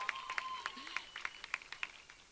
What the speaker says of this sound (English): You can applaud, come on.